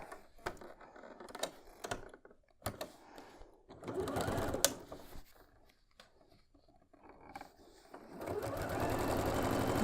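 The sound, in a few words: sewing machine stitching quilt block seams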